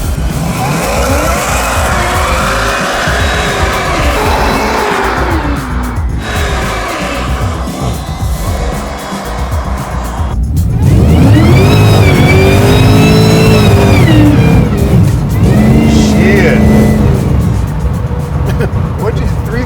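Supercharged LT4-powered 1969 Camaro making around 700 hp, engine revving hard and rising in pitch as the tires spin and squeal, loud and close, with people talking over it.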